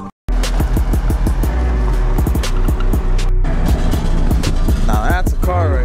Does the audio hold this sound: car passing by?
yes